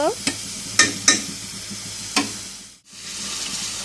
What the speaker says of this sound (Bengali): এখন আমি আলুগুলো দিয়ে দিচ্ছি আলুগুলো দেওয়ার পর আমি হালকাভাবে এগুলো মশলাগুলো আলু এবং চিংড়ি মাছের সাথে নেড়ে দিচ্ছি